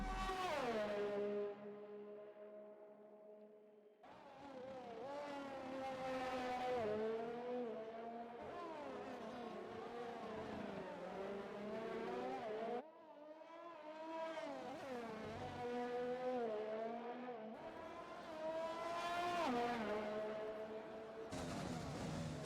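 Ferrari race car lapping the Singapore circuit in a racing video game, its engine whining loudly through rising and falling revs as it shifts gears, with brief drops where it brakes into corners.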